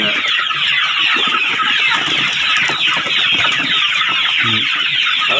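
Black-tailed Pradu chickens on a rural Thai backyard farm, clucking in a dense, continuous flock chatter with a steady hiss of surrounding noise, close and loud.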